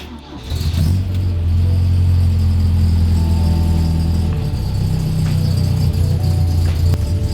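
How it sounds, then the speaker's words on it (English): Engine of an MGB car idling rough just after starting, a steady loud low drone with uneven rattling pulses running throughout, close by and alone. "So the car is usually a little bit rough when it first starts up"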